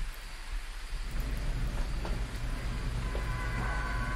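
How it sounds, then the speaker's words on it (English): Steady heavy rain pours down while low thunder rumbles continuously underneath, a full, close storm with no voices, in the video game Phasmophobia. "And, it's raining."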